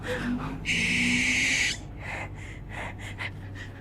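A harsh, hissing screech from a bird at night, held for about a second, followed by faint breathy sounds in a quiet setting.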